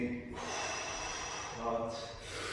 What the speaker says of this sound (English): Try to get the technique right. Breathe in,